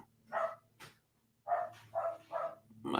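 A dog gives several short, distinct barks indoors at close range, a single bark followed by a quick run of three more, then a final sharp bark.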